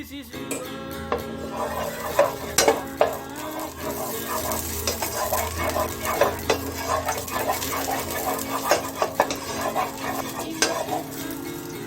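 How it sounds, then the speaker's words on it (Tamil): Cashews and pistachios roasting in ghee in a heated pan, a close steady sizzle broken by frequent rattling scrapes and clinks as the nuts are stirred, with no voice. "இந்த முந்திரி, இந்த பிஸ்தா பருப்பையும் லைட்டாக அதை வந்து வறுத்து எடுத்துக்கலாம் நெய்யில்"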